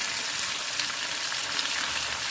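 Eight tomatoes and two large onions sautéing with salt in a pan for an easy breakfast dish, giving an even, dense sizzle that stays constant and fairly loud throughout, with no voices.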